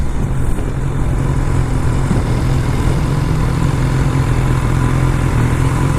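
A BMW S1000 motorcycle engine runs continuously through city traffic, a loud, steady low drone with a constant hum and no clear revving peaks, heard close with no talking.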